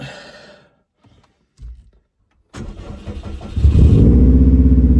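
After a brief sigh and some quiet handling, a Subaru EJ engine with a newly replaced timing belt cranks with a rapid chugging whir, catches, and settles into a loud, rough idle close by.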